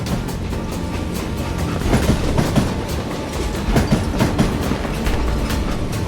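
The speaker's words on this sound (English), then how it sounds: "I wondered if I was ever going to find the front of that train" A train in the Western video game Call of Juarez: Gunslinger rumbles along at speed, with a steady loud roar and a rhythmic clickety-clack of wheels over rail joints.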